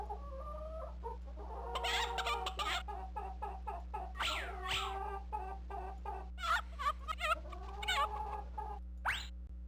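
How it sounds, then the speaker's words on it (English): Chickens on a farm cluck and squawk in uneven bursts, with one louder call near the end. A constant low electrical hum runs underneath. "Okay, back to the chickens."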